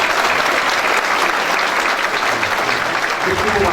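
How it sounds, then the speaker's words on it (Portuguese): A crowd at a medal ceremony in Ouro Preto applauds the Military Police, a loud, continuous wash of clapping from many hands that holds steady throughout, with a voice faintly under it. "Então eu peço a salva de palmas para nossa Polícia Militar."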